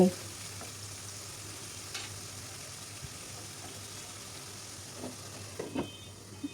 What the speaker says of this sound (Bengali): এখন চিকেন দিয়ে খুব ভালোভাবে নাড়াচাড়া করে কষাতে থাকবো